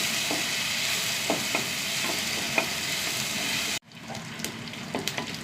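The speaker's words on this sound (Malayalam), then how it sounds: "ഉള്ളി നന്നായി മൂത്ത് വരട്ടെട്ടാണ്." Onions fry with curry leaves and dried red chillies in a pan, a dense steady sizzle under occasional soft stirring taps that suddenly drops to a quieter, lighter crackle.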